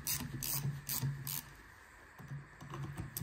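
A ratchet wrench tightens the top bolts on a replacement electric steering rack motor for a Jaguar F-Pace, producing quick bursts of sharp clicking that pause briefly and then resume, close and fairly quiet.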